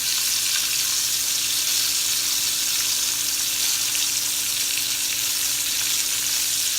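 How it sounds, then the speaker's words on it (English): Peppers sauté in butter with salt and pepper in a pan, giving a steady, close sizzle and crackle that runs evenly the whole time with no voices. "I have some peppers that I sauteing in some butter, salt, and pepper"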